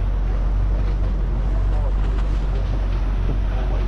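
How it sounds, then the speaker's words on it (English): Steady low wind and water wash around boats in a small harbour in Weymouth, with a constant rumble and faint background murmur throughout. "What a beautiful little picturesque harbour we're coming back into."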